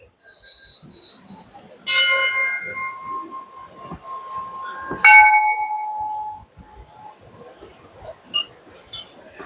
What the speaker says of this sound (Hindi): देखो छोटे बच्चे कैसे घंटी बजा बजा के एंजॉयमेंट कर रहे थे